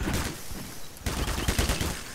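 Rapid MP5A1 submachine gun fire in Garry's Mod on a multiplayer server, a dense burst of shots that gets louder and denser partway through, with no talking.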